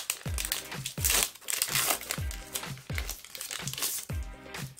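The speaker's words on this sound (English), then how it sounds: "I love that sound Pokemon cards make." Pokémon cards from a Hidden Fates Charizard tin being shuffled and flicked by hand, a rapid series of close, crisp crinkling snaps in a brisk rhythm, no speech.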